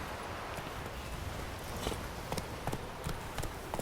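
Roach, Geralt's horse in The Witcher 3: Wild Hunt, gallops with a steady run of soft hoof clip-clops over a continuous ambient bed of game sound, moderately loud and without voices.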